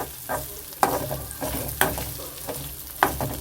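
Dried vaalai fish frying with garlic in a pan, crackling sizzle under a steady background, with three sharp scraping stirs spaced about a second apart.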